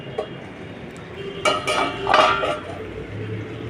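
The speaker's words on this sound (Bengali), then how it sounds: "মাখা বন্ধুরা, ঢাকাটা খুললাম" A metal lid comes off a cooking pan simmering on a lowered flame, giving a couple of bright clinks and clatters against the rim over a quiet kitchen background.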